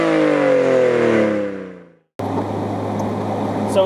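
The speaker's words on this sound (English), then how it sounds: "The RB20 is still a great motor. You're still getting that inline six sound." A 1991 Nissan Skyline GTS-t sedan's RB20 inline-six revs up and winds down over two seconds, then after a brief cut a steadier, close engine hum continues.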